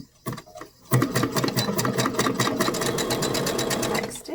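A sewing machine stitches along the curved edge of a fabric face mask. After a couple of brief taps, a fast, even motor whir runs steadily and close by for several seconds.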